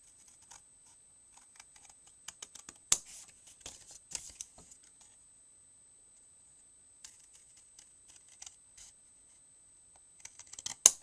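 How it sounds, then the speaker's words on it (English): Scissors snip through card along a score line while a handmade card is being made: quiet, close, scattered cuts with gaps of silence and a few sharper snips, no talking. "I'm going to take my scissors, and I'm going to cut to that score line."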